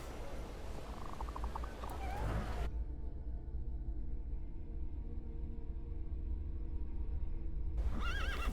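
A horse whinnies in The Thaumaturge, a short wavering neigh heard early over rumbling outdoor ambience, then the scene drops to a quiet hum before another whinny-like cry near the end.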